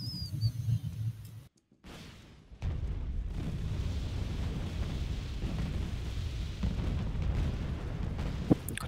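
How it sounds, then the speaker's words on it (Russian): Artillery fire in Wargame: Red Dragon, a Cold War strategy video game, rumbles as a dense, continuous low barrage of booms and explosions after a brief silent gap, with one sharper blast near the end. "Кто-то стреляет артиллерией."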